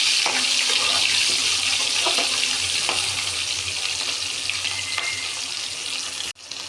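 Onions frying in a pan, a steady close broadband sizzle that holds evenly throughout with faint stirring ticks, no voices, cutting off sharply near the end.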